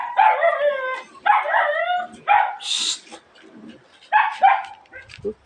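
A dog barks repeatedly at close range in short bursts, mixing yips and whiny barks with brief pauses between them.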